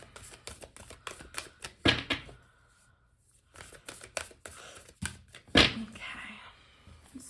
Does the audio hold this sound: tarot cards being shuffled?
yes